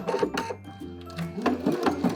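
A home sewing machine runs a dense satin stitch around a sequin appliqué: short motor bursts start and stop in an uneven rhythm, up close and clear, with no voices.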